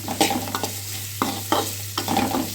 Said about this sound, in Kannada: ಇದನ್ನು ಸ್ವಲ್ಪ ಬೇಯವರೆಗೂ ಇದನ್ನು ಕೈ ಆಡಿಸ್ಕೊಳ್ಳೋಂತೆ